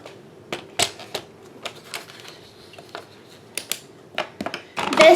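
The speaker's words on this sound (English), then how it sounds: "This is the Fiskars trimmer with the wire guide." A Fiskars paper trimmer with a wire guide slices card stock, giving a series of sharp, irregular clicks and taps, close and fairly quiet, ending in a brief rougher scrape.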